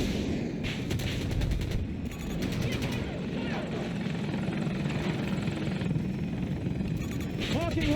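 Helicopter rotor drone in a Battlefield 2042 rooftop fight around Delta, loud and continuous, with bursts of gunfire and battle noise layered over it throughout.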